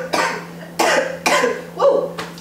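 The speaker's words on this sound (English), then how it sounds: "don't mind me if I'm coughing up and just being sickly." A person who is unwell coughs several times in a row, loud, close and harsh, with short pauses between the bursts and no talking.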